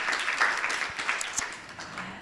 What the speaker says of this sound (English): Let's give him a round of applause for catching that one today.